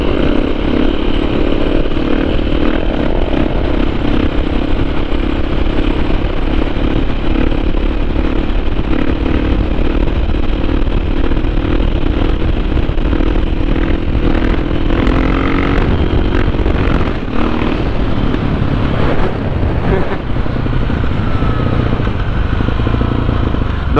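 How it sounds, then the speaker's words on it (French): A dirt bike, one of a 250CR, 400 TTR or 530 EXC-R, roars steadily and close for over twenty seconds, its engine note rising and shifting with throttle changes during a wheelie on open ground. "Le monsieur il fait un wheeling, bon on va en faire un."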